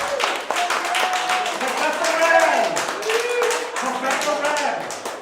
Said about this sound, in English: Can we give Rin a round of applause,